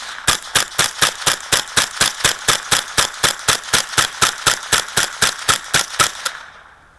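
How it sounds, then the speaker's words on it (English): A Ruger 10/22 rifle fires at an old piece of oak: about twenty sharp, evenly spaced shots in a fast, steady semi-automatic cadence, loud and close, then stops abruptly and the echo fades. "Shooting at an old piece of oak here"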